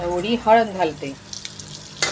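Turmeric and asafoetida tempering sizzling in hot oil on a low flame while cooking bottle gourd peels, a soft crackle running under a woman's speech and a brief louder hiss at the end.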